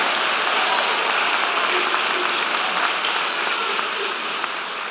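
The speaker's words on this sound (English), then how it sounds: "You better clap for that." Graduates applaud at a university commencement ceremony. The applause is a large, continuous wash of clapping from a big crowd that stays loud and steady for the whole stretch, with no speech over it.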